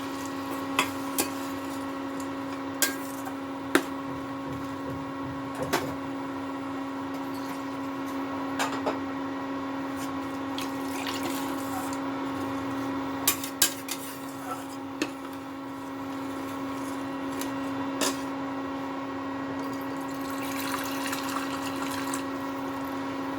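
Water runs into a cooking pot for a posto and potato fritter curry as a continuous trickle, mixed with a steady hum and occasional sharp clinks.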